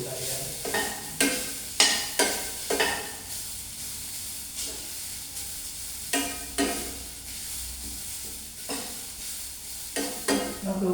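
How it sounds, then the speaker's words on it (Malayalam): Chutney mixture being dry-roasted in a pan, a soft continuous sizzle broken by regular loud scraping strokes of a spoon stirring, close up and alone. "ചമ്മന്തി വറുത്തെടുത്ത് ഇങ്ങനെ ചെറുതായിട്ടൊന്ന് ഇങ്ങനെ ഒന്ന് ചൂടായാൽ"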